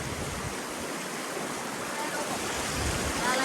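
A strong mountain river current rushes past with a loud, dense, continuous roar of churning water, steady from start to finish.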